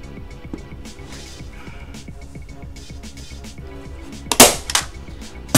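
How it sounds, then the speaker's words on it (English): A staple gun fires two sharp snaps near the end while fabric is fastened to the underside of a piece of furniture being refurbished, after a stretch of quieter handling noise. "So we're going to staple. And then I'm going to staple."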